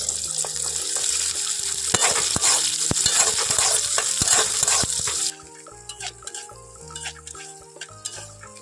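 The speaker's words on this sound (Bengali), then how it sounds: "এখন দিয়ে দেব পাঁচ ফোড়ন এখন আমি দিয়ে দিচ্ছি কুচনো পেঁয়াজ" Chopped onion and panch phoron frying and being stirred in a pan for a Bengali chikni saag dish, with a steady loud sizzle and scraping strokes that drop to a quieter, sparser crackle about halfway through.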